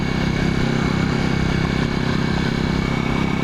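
A 1981 Yamaha XS400 motorcycle engine on a test ride, a steady loud droning rumble with a constant pulsing throb, close and continuous throughout with no talk.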